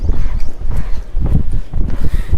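A horse canters during a riding lesson, its hooves clip-clopping in a steady, loud, close rhythm throughout, with no talking over the beat.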